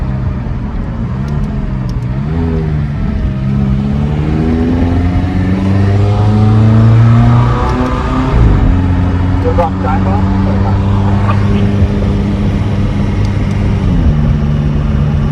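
A McLaren 570S accelerates hard onto a freeway, its engine note climbing through several rising gear pulls with a brief shift dip, loud and close from inside the cabin while people talk and shout over it.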